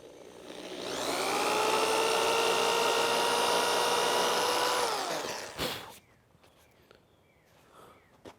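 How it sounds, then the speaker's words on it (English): Power drill boring pilot holes in wood for a chicken coop build, a sustained whine that rises as the bit spins up and holds for about four seconds before winding down, followed by a thump and faint handling sounds. "I'm going to do pilot holes just to make sure the wood doesn't split."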